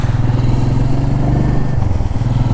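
Royal Enfield Meteor 350 single-cylinder motorcycle engine running steadily nearby, a loud low throbbing idle with a rapid, even pulse and slight mechanical clatter, no voices over it.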